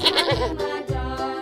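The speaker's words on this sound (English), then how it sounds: "Goat." A goat bleats twice in close succession, each call a loud, wavering, nasal cry heard up close with nothing else around it.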